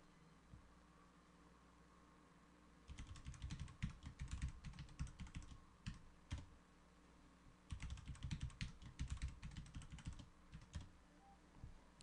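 Quick, irregular keystrokes on a computer keyboard entering a password during a FreePBX setup in VirtualBox, arriving in two bursts of clicky taps separated by a quiet pause, close and alone with no talk.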